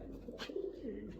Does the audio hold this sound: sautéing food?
no